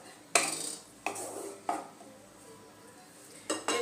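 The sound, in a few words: mixing sour yogurt into a pan of pointed gourd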